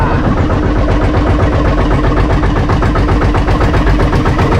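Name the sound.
boat's two engines, a D12 and a D20, running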